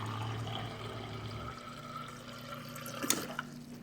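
Water pours from the door dispenser of a 28 cubic foot Samsung four-door stainless steel refrigerator, a steady close hiss of liquid with a brief louder splash near the end.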